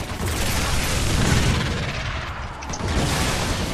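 Heavy, continuous gunfire from the video game Earth Defense Force: Insect Armageddon, a dense, loud stream of booming shots and explosions with no talking.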